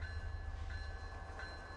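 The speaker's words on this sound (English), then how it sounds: "this is a long auto rack train, so I guess you should this to move, because this is extremely long" A long auto rack train rolls along in a Roblox game, a steady low rumble of rail cars with a faint whining tone, continuous and moderately quiet, with no speech.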